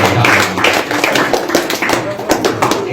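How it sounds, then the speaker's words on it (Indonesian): Audience clapping for a friend at a youth religious study gathering, dense overlapping claps with a few sharper taps, steady and fairly loud throughout, with a voice briefly audible underneath. "boleh kasih tepuk tangannya buat teman kita"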